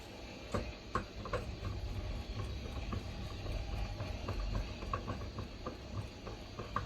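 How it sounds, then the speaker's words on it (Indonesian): A screwdriver driving bolts back into the rear panel of a Canon G2010 inkjet printer, steady close ratcheting clicks over a continuous mechanical background rumble, no voices. "Dan di bagian belakang kita baut lagi."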